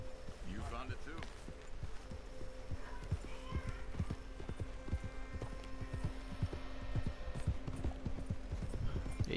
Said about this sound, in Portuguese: Colocar o cavalinho pra correr um pouquinho.